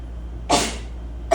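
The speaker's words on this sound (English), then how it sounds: "Oh, I have to sneeze." Two sneezes come from one person indoors: a sharp, close burst of breathy noise, then after a short pause a second, briefer sneeze.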